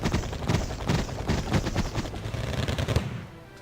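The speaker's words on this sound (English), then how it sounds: "Look at all those bullets just whiffing past it." Gunfire in the video game Wargame: rapid, dense bursts of shots crackling in quick succession for about three seconds, loud and close, then cutting out.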